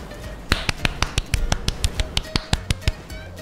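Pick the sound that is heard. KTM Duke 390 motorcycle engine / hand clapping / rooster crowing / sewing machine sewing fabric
hand clapping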